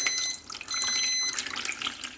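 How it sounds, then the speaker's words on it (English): Water is poured into the reservoir of a Morphy Richards 48775 Intellisteam food steamer. It makes a steady, close splashing trickle lasting about two seconds, with a faint high electronic tone ringing through the first half and no speech. "And I'm just going to pour some water in."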